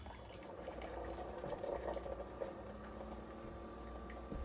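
A Keurig K-Slim coffee maker on a water rinse cycle gives a steady, fairly quiet bubbling and trickling hum, as water heats and pours through, with faint gurgles and no talking.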